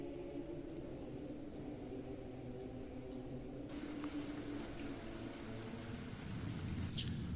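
Rain ambience for a tabletop game scene in a town, a faint steady hiss of falling rain with a low rumble underneath, continuous throughout.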